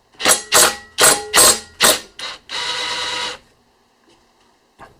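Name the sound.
ratchet wrench removing lawn mower blade bolt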